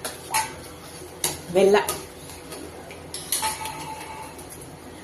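A spoon stirs a milk junnu powder mixture in a metal vessel, giving a few sharp clinks and scrapes against the sides, close by, with someone speaking throughout.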